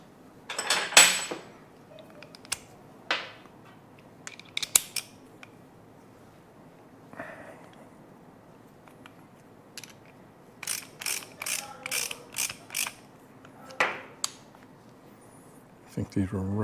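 Front suspension parts on a '57 Bel Air restomod are tightened down with a ratchet: several scattered bursts of quick clicking, then a longer run of rhythmic ratcheting strokes, close and fairly crisp against a quiet garage background.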